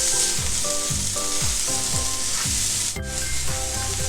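Tomato sizzles steadily in a hot pan while a utensil stirs it in repeated scraping sweeps, preparing vegetable masala Maggi atta noodles; loud and close, with no talk.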